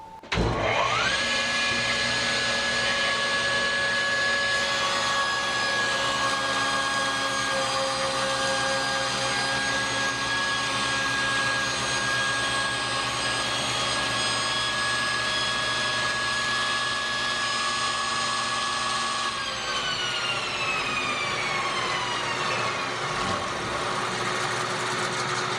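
A table saw with its blade raised to full height runs steadily for a long stretch, cutting a wooden board with a loud sustained whine, then winds down near the end as the blade slows.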